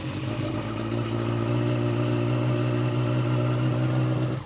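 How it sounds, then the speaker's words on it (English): A motorcycle engine idles steadily after starting, a loud, continuous mid-pitched hum and whir holding even throughout before cutting off abruptly at the end. "I'm going to start the engine and try."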